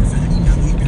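Busy road traffic with many motorcycles rumbles loudly and close at Quezon City Circle in a brief, dense wash of engine noise, with voices mixed in.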